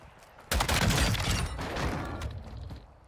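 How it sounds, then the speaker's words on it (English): Single-fire shots from a Lachman 762 rifle in Warzone 2 crack in a loud, close, rapid cluster, then ring off with fading mechanical rattle. "That was a three shot with single fire."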